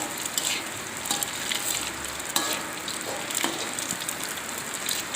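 An egg fries in a wok for kwetiau goreng: a continuous crackling sizzle of hot oil, close and fairly loud, with occasional sharper pops and spatula scrapes throughout.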